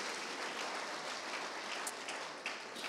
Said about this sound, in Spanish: Les damos un fuerte aplauso de bienvenida a las personas que nos visitan